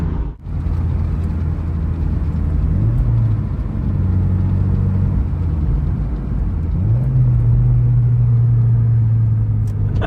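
A Mazda MX-5 NC approaches a roundabout, its engine a steady, close interior rumble and whir that dips briefly and then climbs as the revs rise near the end, with no talking.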